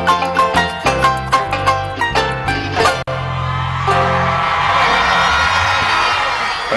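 Music from a coplero singer at a plaza inauguration in Sabaneta ends with a few rhythmic strummed chords, then gives way to loud, sustained crowd cheering, whoops and clapping that continue to the end.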